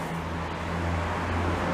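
A sewer cleaner truck's engine drones loudly and steadily nearby on a city road, its low mechanical hum holding constant throughout.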